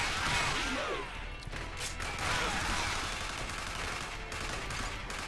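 Gunfire in an arcade shooting video game, a dense, continuous burst of rapid shots and crashing impacts with game effects sweeping over it, loud and sustained.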